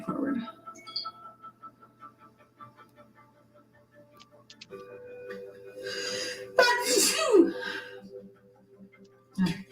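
A single sharp sneeze bursts out near the end of a quiet indoor scene with light ticking and faint background sounds, followed by someone speaking.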